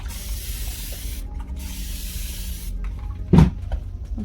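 A single short aerosol spray burst onto a make-up bag laid out for heat-press photo transfer, heard briefly against a steady background hiss with faint handling noise after.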